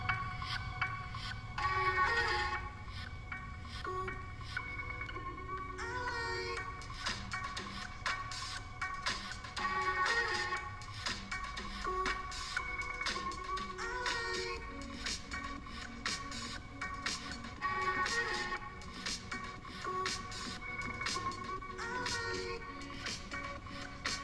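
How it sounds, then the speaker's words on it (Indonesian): Music from the YouTube Audio Library played back through the stereo speaker of an Oppo A57 phone, a continuous busy track with steady beats and layered tones at a moderate level, with no talking. "Sekarang kita cobain aja dengerin lagu dari YouTube Audio Library."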